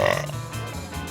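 A single short, throaty burp from a stranger on a city street during a burping contest, fairly loud and close.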